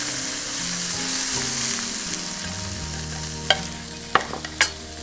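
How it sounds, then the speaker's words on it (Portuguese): Seedless tomato stirred into onion frying in a pan, a close steady sizzle with a low hum, then a few sharp spoon clacks and scrapes near the end. "Cebola começando a querer ficar tostadinha, você entra com um tomate sem semente."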